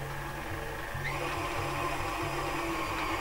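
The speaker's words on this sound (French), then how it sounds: "Et maintenant, on passe dans notre batteur." A close, steady electric mixer whirs at constant speed through chocolate cake batter with sugar and eggs, its motor drone continuous with slight pitch shifts and no talking.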